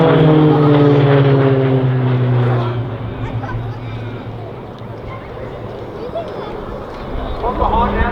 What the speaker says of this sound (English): Watch as the two aircraft identify each other and then quickly turn to miss.